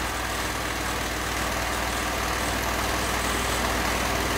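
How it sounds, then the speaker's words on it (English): A petrol engine fitted with a GEET plasma reactor vaporising carburettor runs steadily and close by, a continuous low droning hum with no speech. "If I close the air management valve a little bit, see, we rev the engine up."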